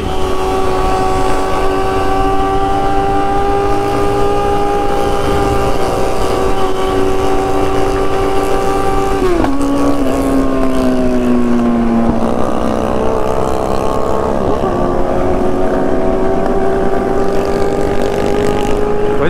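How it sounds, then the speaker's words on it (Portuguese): Honda Hornet motorcycles in a nighttime convoy with loud straight-pipe exhausts, a close, sustained engine drone whose pitch dips sharply midway, then climbs again as the bikes rev. "Cara com tanto de moto que apareceu do nada, rapaziada"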